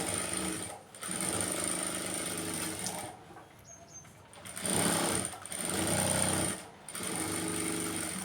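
Sewing machine stitching a blouse neck, running in loud sustained bursts of rapid rhythmic stitching separated by several short pauses, with no talking.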